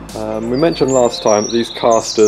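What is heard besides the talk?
bird chirping outside near garage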